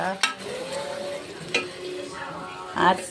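Prawns frying in a pan for biryani, a steady close sizzle with stirring scrapes and a few sharp clinks; speech is faint in the background.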